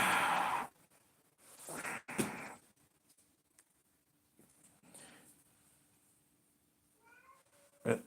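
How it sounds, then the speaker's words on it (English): A pet cat named OJ meows loudly at close range twice near the start, then gives a fainter, drawn-out call and a short final cry after a quiet stretch. "that's my other cat. I don't know if you heard him."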